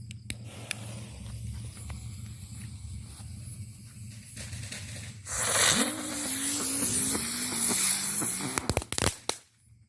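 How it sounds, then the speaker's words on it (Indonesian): A lotus spinning firecracker (petasan bunga teratai, gangsing pretek) set off at night during Ramadan, starting with crackling fizz and building to a loud spinning hiss with a rising whistle, ending in a few sharp pops. "ini dia yang pertama kita nyalakan petasan bunga teratai atau petasan gangsing pretek"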